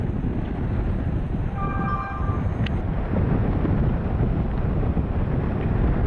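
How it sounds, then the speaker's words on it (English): Steady outdoor wind buffets the microphone beside an airport ramp where jets park, a loud continuous low rumble with gusts throughout and a faint tonal whine in the middle. "It's also kind of windy out here."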